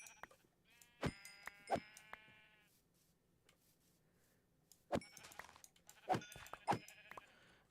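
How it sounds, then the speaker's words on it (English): Sheep in Minecraft bleat several times in short, quavering calls, a pair early on and a cluster later, fairly close against a quiet background. "Ooh, a lot of sheep."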